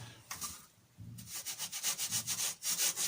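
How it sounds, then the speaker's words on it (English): Wood shavings are pressed against a spinning Balinese teak vase on a lathe to rub off dried glue, making a close, rhythmic rasping scrub that pulses in quick strokes and grows steadier and louder after a short pause. "Let me rub some shavings just to dry glue off."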